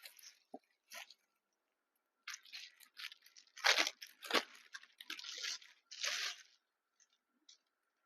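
A packaged dress being opened, with quiet bursts of crinkling plastic and soft tearing in short irregular handfuls, close by and faint, separated by brief pauses.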